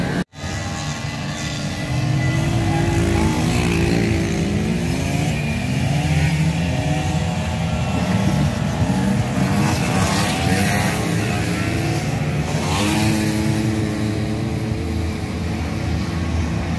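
A motorcycle rides along, its engine droning steadily and close, with pitch rising and falling as the rider shifts and accelerates throughout.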